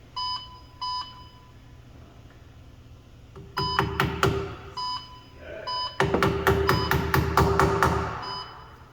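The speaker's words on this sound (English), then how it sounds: "you'll see that green light or hear that beeping." Short electronic beeps from a wheel balancer sound in pairs, then two bursts of rapid clattering beeps over a low machine hum.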